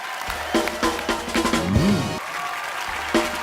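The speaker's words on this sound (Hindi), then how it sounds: "हर्ष और सैमी के लिए जोरदार तालियां।" Applause from a TV comedy show studio audience rising and carrying on steadily, with music playing alongside it.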